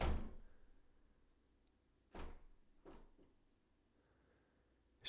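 A door closes and then swings back open by itself, heard as a heavy thud, then two softer knocks and creaks a couple of seconds later, and another bump at the end, in a quiet room.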